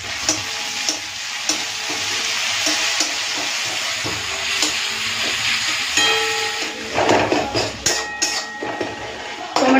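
Chopped tomatoes sizzle and fry in a pan of oil for a Bengali prawn curry, a steady hiss with occasional stirring clatters and louder spatters near the end, no talking.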